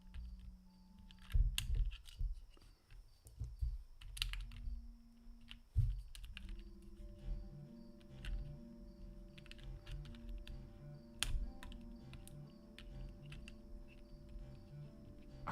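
Keycaps popped off a computer keyboard by hand: scattered sharp plastic clicks and snaps at an irregular pace, faint and close, over a quiet background with a low steady hum.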